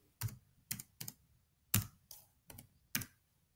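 Seven sharp, separate keystrokes on a computer keyboard, close and fairly quiet, spaced irregularly with silence between taps and no voice over them.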